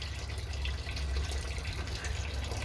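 Liquid being siphoned out of a container, water flowing and trickling in a steady, continuous low gurgle, fairly quiet and uninterrupted with no voices.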